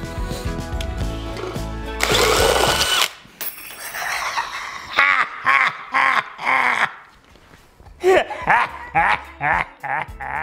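Cordless drill driver fitted with a cheap attachment whines loudly for about a second, then runs in a string of short bursts with brief pauses between them, close up, with no talk over it.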